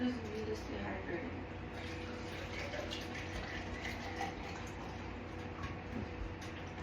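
Water pours into a drinking glass with a steady, quiet trickle and fill that continues for several seconds, while a voice is faintly present.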